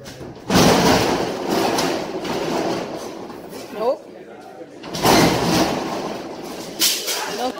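A stuck door is forced open with rattling, scraping thumps and a couple of louder bangs, while people talk close by throughout.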